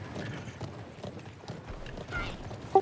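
Horse hooves galloping in the video game Conqueror's Blade, a rapid clip-clop rhythm running continuously at close range, with a brief sharp clank near the end.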